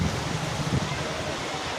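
A waterfall near Harishankar temple gives a steady, broad rushing roar of falling water that fills the short stretch without a break.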